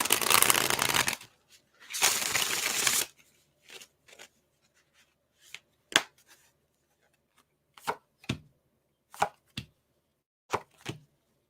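Tarot cards are riffled and shuffled: two long noisy bursts, then a series of short, crisp snaps and taps spaced apart, close by.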